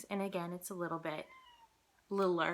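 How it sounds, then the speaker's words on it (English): A house cat meows behind a closed door, a faint, muffled call slipping into a short pause between stretches of a person talking close by. "If you hear that, that's my cat."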